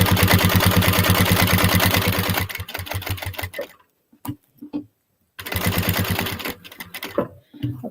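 Sewing machine stitching a fold-over clutch bag: a fast, close rhythmic mechanical whir in bursts, pausing and restarting with short stitches and clicks between runs.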